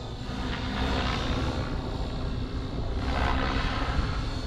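An Align T-Rex 550X RC helicopter flies aerobatics overhead, its rotor and motor making a steady, loud whirring drone that swells and fades slightly as it climbs and turns, with no talk.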